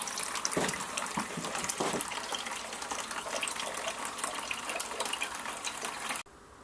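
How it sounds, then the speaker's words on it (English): Bitter beer wort, cooled below 30 °C, gushes continuously from a boiler into a primary fermentation bin for a real ale, a steady splashing pour with a few louder sloshes that stops abruptly near the end. "the bitter wort now is under 30 degrees C, and I'm just running it off into the primary fermentation bin."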